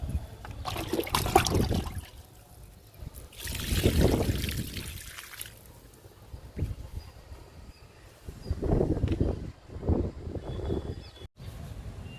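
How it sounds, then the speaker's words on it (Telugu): Liquid fertilizer poured onto a potted ridge gourd plant, a few separate bursts of splashing and trickling liquid with quiet gaps between them. "ఈ బీర మొక్క కూడా లిక్విడ్ ఇచ్చేద్దాము."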